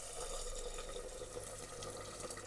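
Water poured over rice in a pot for soaking, a soft continuous splashing and trickling stream, faint and steady.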